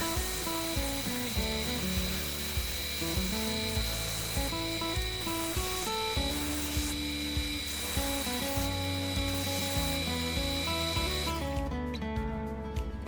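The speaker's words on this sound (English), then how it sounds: "I refine the curved side of the base using the disc sander" A steady whirring disc sander grinds against the curved side of a wooden base, a continuous rasping hum with no speech.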